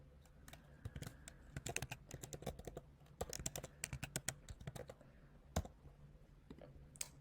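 Typing an email address on a computer keyboard, rapid quiet key clicks in uneven bursts with short pauses, close and alone.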